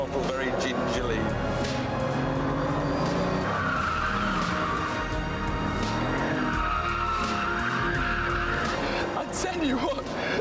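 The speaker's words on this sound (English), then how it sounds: "Now I've got to open the throttle very gingerly." A 1,000 horsepower supercar powering out of a hairpin in first gear, throttle eased open, its engine roaring loud and close while the tyres squeal and skid through the turn.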